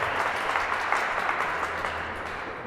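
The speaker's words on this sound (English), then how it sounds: "I'll tell him that you all clapped for him." An audience at an outdoor Hanukkah menorah lighting claps in a dense, sustained burst of applause that tapers slightly toward the end, with no voices standing out.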